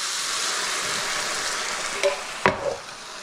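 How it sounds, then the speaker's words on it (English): Canned whole peeled tomatoes hit a hot pan with chicken, setting off a loud, steady sizzle with a couple of sharp splattering bursts near the end before the frying settles. "now I'm gonna get my tomatoes in there"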